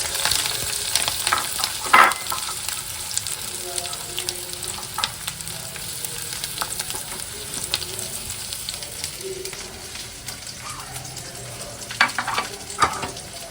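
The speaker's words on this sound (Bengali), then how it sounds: "বেশি করে পেঁয়াজ মরিচ দিচ্ছি কাঁচামরিচ আর পেঁয়াজ" Plenty of sliced onions and green chilies sizzle steadily in a pan, the base for cooking baim fish. Occasional stirring clatters and scrapes rise over the hiss, and no one speaks.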